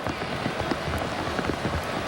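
Steady heavy rain pours down at a Cubs at Pirates baseball game, a dense continuous hiss of drops with scattered louder spatters throughout, with no voices.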